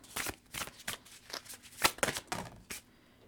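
Tarot cards being shuffled during a zodiac reading, a series of rapid, close riffling bursts in an uneven rhythm, fairly loud, with no talking over them.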